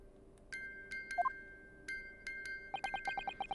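A music box in The Great Ace Attorney Chronicles chimes a bright Morse-code pattern, a few spaced tones at first, then a quick run of short, evenly repeated pings at the end, clear and alone.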